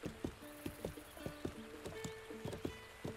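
Horse hooves clip-clop at a walking pace across the ground in The Legend of Zelda: Breath of the Wild, a steady run of sharp, close knocks with a few soft whinny-like tones mixed in.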